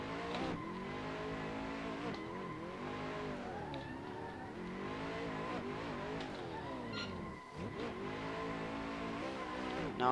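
Max Cotton's drift car howls through a track corner, its engine revving up and down in steady sweeps while the tyres scrub and squeal, loud and close throughout with a brief dip near the end.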